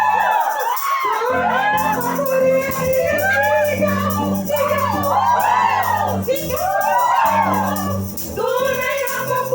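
Church congregation shouting and whooping praise together in a dense, loud crowd roar, with music underneath and voices rising and falling throughout.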